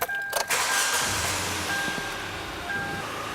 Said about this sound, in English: You will want to engage the emergency brake and then start the vehicle.